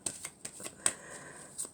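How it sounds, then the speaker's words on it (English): Soft, intermittent riffling of tarot cards being shuffled by hand, a few quiet papery bursts and slaps spread over under two seconds, close and gentle. "I'm going to shuffle these cards for a little while"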